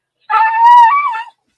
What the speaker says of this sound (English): that big dog wanted that muffin